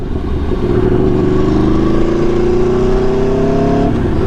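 A motorcycle being test ridden like a regular road bike, its engine loud and close as it accelerates with a steadily rising rev tone, then eases off near the end.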